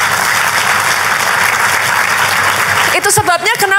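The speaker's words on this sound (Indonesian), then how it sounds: "boleh gak sih kasih tepuk tangan untuk gembala sidang" A church congregation applauds its pastor with dense, sustained clapping for about three seconds, then a voice speaks as the clapping ends.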